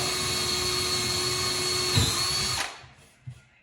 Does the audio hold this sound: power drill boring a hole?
yes